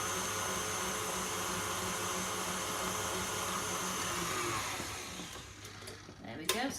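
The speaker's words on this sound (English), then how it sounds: "So that has whisked up beautifully." An electric whisk whips cream in a kitchen with a steady, loud motor whir that runs continuously and then cuts off, followed by a few clattering knocks; speech is mixed in under the noise.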